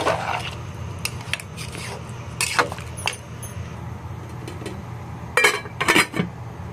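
A pot lid is set on a pot of vegetable khichdi, making several light metallic clinks and clatters at intervals over a low simmering background.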